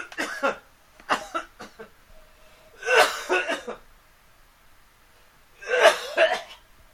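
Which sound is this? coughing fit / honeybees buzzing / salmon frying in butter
coughing fit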